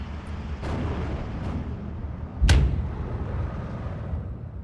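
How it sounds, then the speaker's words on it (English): Artillery fire in the wartime strategy game Steel Division 2, with booming distant shots over a low rumbling battlefield bed and one louder, closer blast in the middle; no talking. "Artillery takes a while to aim in this game"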